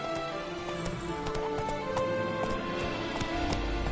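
Roach, Geralt's horse in The Witcher 3: Wild Hunt, galloping: steady rhythmic hoofbeats thud and clop beneath a bed of ambient game music with sustained tones, moderately quiet throughout.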